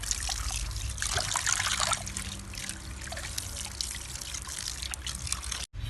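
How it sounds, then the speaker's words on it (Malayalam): Running water trickles steadily over a fish being rinsed clean in a kitchen before scoring it for frying, a continuous close pour with no talking. "ഇനി അതൊന്നൊന്നുകൂടെ വൃത്തിയായിട്ട് കഴുകിയിട്ട് നമുക്ക് വരഞ്ഞെടുക്കണം."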